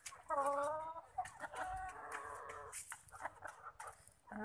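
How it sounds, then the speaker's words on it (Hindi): Hens cackle and cluck in a small backyard flock of four, a burst of rising calls near and fairly loud, followed by steady clucking with some crowing-like tones and no talk. "ये चार मुर्गियां हैं,"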